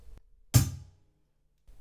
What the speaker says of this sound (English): with your right hand and your bass drum, your right foot, I want you to just play a note